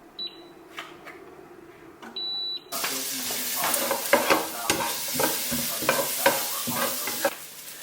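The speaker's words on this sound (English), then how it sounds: "going to saute up the onions nice and light with the butter" Onions sautéing in butter in a hot pan, scraped and stirred repeatedly with a utensil over a steady sizzle, after a few quiet clicks and a short beep at the start.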